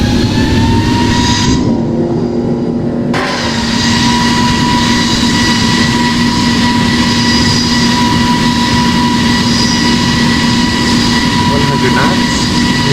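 Airbus A350 in Singapore Airlines livery accelerating down the runway on its takeoff roll in the flight simulator game Project Flight, a steady loud engine roar with a sustained whine, with a brief drop near the start and a faint click late.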